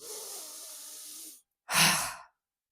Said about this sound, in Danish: På omkring 20 tager du endnu en dyb indånding og slipper.